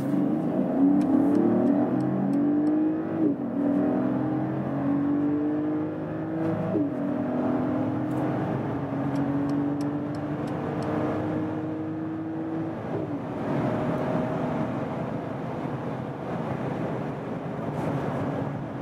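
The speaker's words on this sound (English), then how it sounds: "here we go to the Sports Plus mode now and really hammer it out. Let's see about the acceleration of this engine" Mercedes SUV engine accelerating hard in Sports Plus mode from about 30 km/h, a loud rising drone that climbs through several gear changes, each marked by a brief dip before the pitch rises again.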